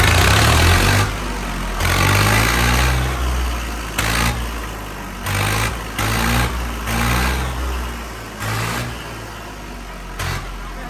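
A 2012 Swaraj 855 tractor engine runs continuously, loud and close, with a deep, rough diesel rumble that swells and eases slightly as the revs shift.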